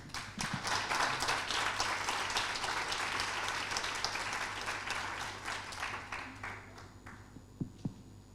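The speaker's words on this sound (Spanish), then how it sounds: "las recibimos con un fuerte aplauso" Audience applause at an international panel discussion, many hands clapping in a dense burst that fades gradually, leaving a few scattered final claps.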